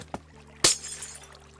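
Floating candles shattering in a Batman Arkham Asylum-style building game, heard as a small tap followed by one sharp glassy crash with a bright tinkling tail, close and alone.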